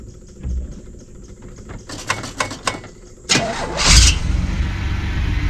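A 1979 Pontiac Firebird with a 3.8 Buick V6 cranks over with several quick starter pulses, then catches and fires into a loud rising rev. It settles into a steady idle, heard close, and nobody speaks.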